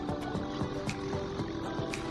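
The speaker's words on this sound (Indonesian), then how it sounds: "kita semprot" A hand sprayer mists water over young orchid seedlings in a growing area, giving a quick run of soft, close spritzing bursts with a light liquid hiss between them.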